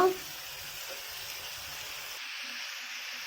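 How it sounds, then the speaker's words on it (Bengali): Shrimp frying in a pan with salt and sugar for doi chingri, a steady close sizzle and hiss that thins out after a brief initial clatter. "এবার দেবো স্বাদ মতো নুন আর দেবো চিনি, দিয়ে এটাকেও ভালো করে ভেজে নেব।"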